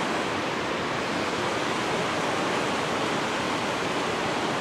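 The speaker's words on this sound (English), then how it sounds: "It's hard to tell with this rushing water behind me." Loud, steady broadband rush of a mountain stream in the Crazy Mountains fills the whole clip as a continuous, close roar of water with no pauses.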